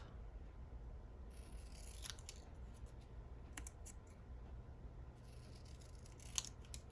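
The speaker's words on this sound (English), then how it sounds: "I'm going to cut this just like that. Cut it off." Scissors cut paper ephemera for a junk journal in a few short bursts of close, crisp snipping over a low steady background hum.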